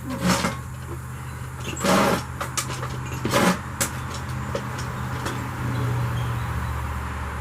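A vehicle passes by a carport, a moderate broadband whoosh that swells and fades near the end over a steady low hum, with scattered brief knocks and clatters earlier in the clip.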